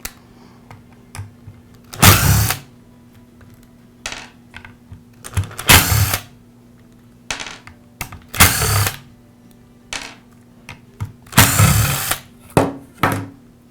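A power screwdriver backs screws out of the base of a Makita finishing sander. Four loud whirring bursts, each lasting under a second, are spaced a few seconds apart, with small clicks and handling taps in between.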